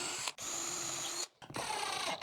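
A power drill drives 1.25 inch deck screws into MDF for a miter saw jig, whirring in two loud bursts separated by a short pause, close and without speech.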